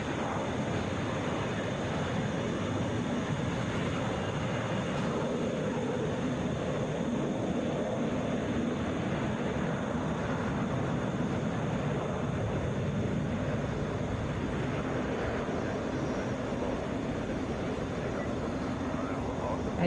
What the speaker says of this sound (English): That's 2723 going to Salt Lake City, Airbus A321